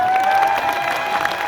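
An audience claps at a DTM marketing business seminar, a dense, steady burst of applause with faint crowd noise and a sustained tone underneath, lasting the whole short moment.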